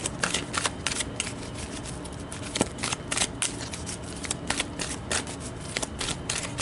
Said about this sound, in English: So let's pull an outcome advice card for you guys for love and romantic energies.